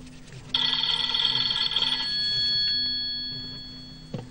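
A telephone rings in a single bright, trilling burst that cuts off after about a second and a half, followed by a faint lingering tone in an otherwise quiet room.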